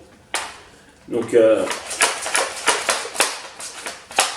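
A hollow plastic slide-and-click from a Nerf Modulus foam dart blaster being pumped, followed by a run of sharp mechanical clacks; a voice speaks briefly at the start.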